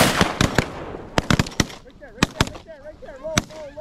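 Shotgun blasts at a duck hunting opener, several sharp loud reports in quick irregular bursts, with whooping and excited voices of hunters around them and calls or chatter between shots.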